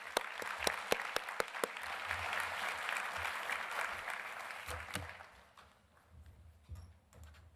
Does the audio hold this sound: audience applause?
yes